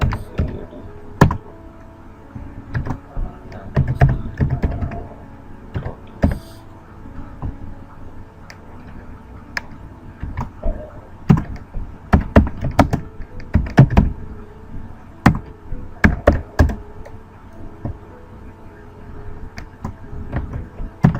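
Keys on a computer keyboard clatter in uneven bursts of close taps and clicks while a program is typed, with short pauses between runs of keystrokes.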